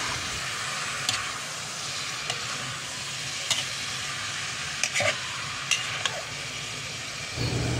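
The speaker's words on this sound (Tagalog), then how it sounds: "hahalo-haluin natin yan para masangkutsa natin ng mabuti yung ating meat sa ating mga pinanggisa" Pork cubes stirred and sautéed in a pot for dinuguan, giving a steady close sizzle with scraping spoon knocks at irregular moments across the clip, no talking.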